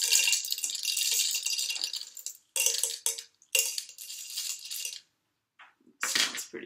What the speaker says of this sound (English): I'm going to put the peas in the can.